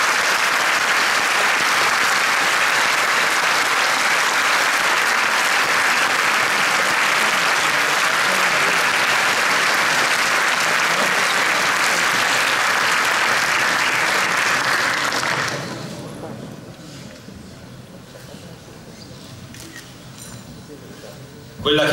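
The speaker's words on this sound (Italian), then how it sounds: "Un applauso" Loud, dense audience applause for signora Sacca at the Premio Sciacca 2015 award ceremony, sustained for about fifteen seconds before cutting off abruptly to a quiet room.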